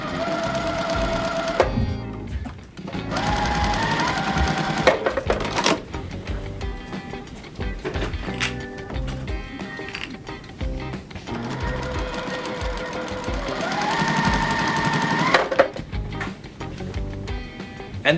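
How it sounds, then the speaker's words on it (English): A sewing machine stitches quilt pickets together for a picket-fence quilt block, its rapid mechanical whirr running in several bursts with brief pauses between them, close and clear. "we'll get these all sewn together"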